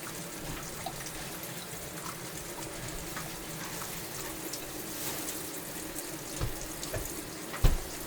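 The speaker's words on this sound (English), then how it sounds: "put water in my roasting pan" A tap runs water into a roasting pan for baked chicken, a steady soft splashing stream that holds at one level throughout, with a couple of brief knocks near the end.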